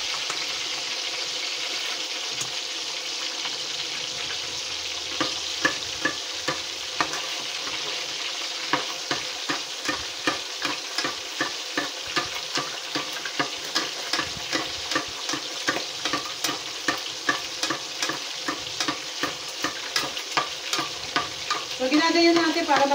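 Tilapia frying in very hot oil gives a steady, loud crackling sizzle, joined from the middle onward by a regular run of sharp spatter pops and scraping ticks that grow denser toward the end.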